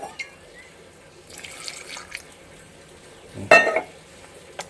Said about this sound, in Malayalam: സ്വല്പം വെള്ളം കൂടെ ഒഴിച്ചു കൊടുക്കുക